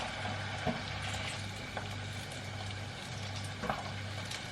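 Quiet, steady sizzling and crackling of food frying in a pan, with a few faint clinks of a utensil.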